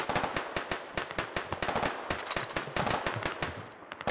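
Rapid gunfire rattles in the Squad Ops video game, a dense stream of loud, close automatic bursts with quick overlapping shots and only brief gaps.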